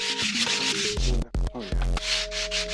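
Sculpture rails rubbed and sanded together give a steady scratchy rasp throughout, mixed with sustained musical tones that ring out from the pieces.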